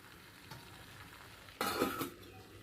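Garlic cooks in a pot over low heat with a faint, steady low sizzle, then a brief louder burst of stirring and scraping near the end; no voices are heard.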